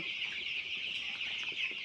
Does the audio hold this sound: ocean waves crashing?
no